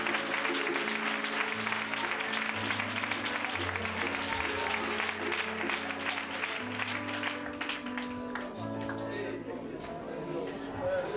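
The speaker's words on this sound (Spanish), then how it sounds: "Aplaude fuerte a tu Dios" Church congregation applauding loudly and continuously while sustained keyboard or organ chords play underneath, filling the hall for about eleven seconds.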